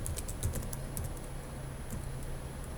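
Quiet, rapid clicking of keys on a computer keyboard, a steady run of close taps over a faint background hum.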